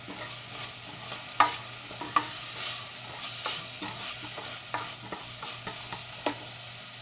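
Mussels in tomato sauce being stirred in a pan, giving a steady low sizzle with sharp scraping clicks of the utensil at irregular intervals, close and alone with no voices.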